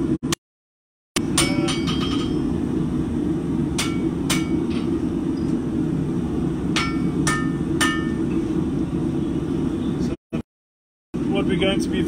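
A hammer strikes 5160 steel round bar, 10mm thick, being forged into a Criollo blade, landing in sharp ringing blows at an irregular pace over a loud steady roar, with two brief silent gaps.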